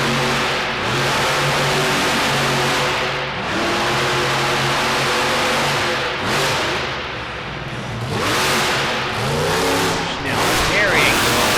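A Bigfoot monster truck engine revs loudly in an indoor arena during a Monster Truck Nationals event in DuQuoin, Illinois, with rising and falling throttle swells. An announcer talks over it throughout.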